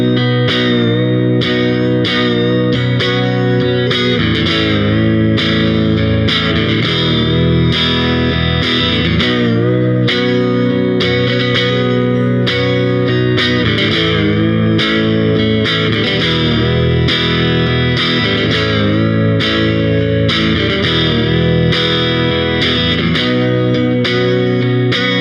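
A Fender Jaguar electric guitar plays a riff on the neck pickup with the strangle switch engaged, loud and dense with effects, repeated picked notes ringing continuously throughout.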